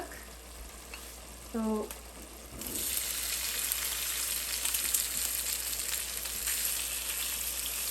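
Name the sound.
patra leaves frying in melted ghee in a pan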